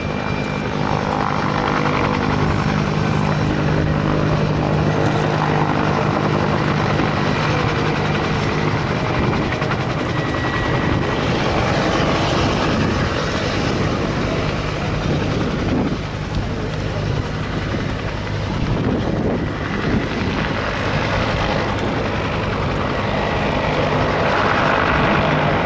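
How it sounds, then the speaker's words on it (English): A Whirlwind Mark 10 helicopter, RAF variant with a turboshaft engine, whines and thrums steadily up close for a long stretch, loud and continuous with wind buffeting the microphone. "This Mark 10 Ultimate RAF variant with the Roman turboshaft engine."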